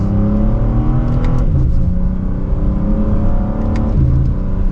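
A 2025 BMW M4 Competition xDrive pulls hard in sport mode, second gear, its engine note climbing steadily, then dropping as a shift comes through near the end, loud and close from inside the cabin.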